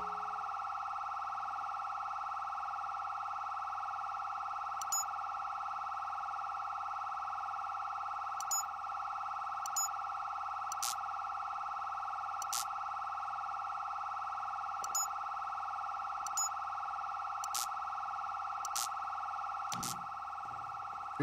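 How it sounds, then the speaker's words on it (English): An alarm blares in the video game GTA 5, a loud continuous electronic tone holding steady for the whole stretch, with faint clicks and brief spikes from gameplay scattered over it. "I'm stopping the alarm right now."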